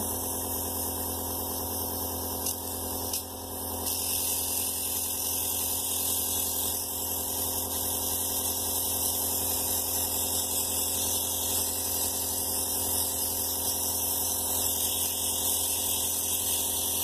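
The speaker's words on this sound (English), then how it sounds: "Now that I'm all set up with my airbrush machine, I'm going to go ahead and get this prime together." Airbrush makeup machine running while primer is prepared, a steady close mechanical hum and hiss with a brief dip partway through, continuous with no talk.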